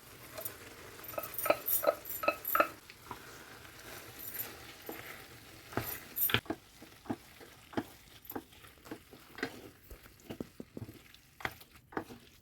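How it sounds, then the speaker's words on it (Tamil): Boiled spätzle hits a pan of frying vegetables, with a soft sizzle and repeated scraping and stirring clatter from a utensil at a close, uneven rhythm. "அவிச்சு வச்சுருந்த ஸ்பேஸில் போடுறேன்"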